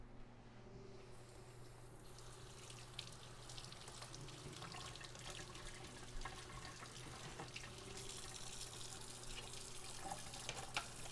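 Water runs steadily from a kitchen tap while hands are washed under it, a soft continuous splashing stream over a low background hum, with no voices.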